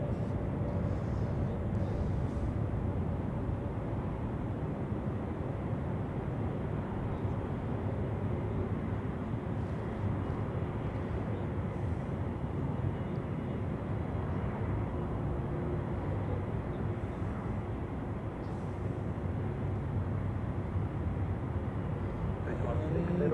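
An Air Canada Boeing 777 sits on the runway at Zurich Airport in stormy weather, giving a steady, broad jet engine rumble mixed with wind noise that holds unbroken from start to end.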